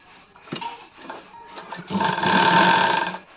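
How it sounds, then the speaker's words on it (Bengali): A sewing machine stitches a double-folded hem on a kurti, with short motor whirs at first and then one longer, steady, close run of needle clatter, no speech. "এক ফোল্ড দেন এক ফোল্ড দু ফোল্ড করে সেলাই দেবো দেখুন"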